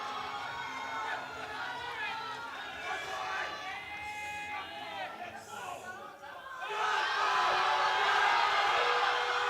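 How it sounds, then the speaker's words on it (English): A large crowd at a world classic powerlifting championship in the men's over-120 kg class shouts and chatters while a heavy attempt is loaded. Their noise then swells into loud, sustained cheering, with voices calling out throughout. "You can hear the crowd is going wild, as they should."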